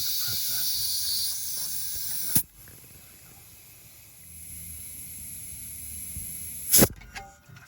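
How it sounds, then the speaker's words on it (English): An air compressor hisses steadily while inflating a bicycle tire, with two sharp pops or bursts of air at intervals, a quieter lull between them, and no talk. "Try to get this to work with the compressor."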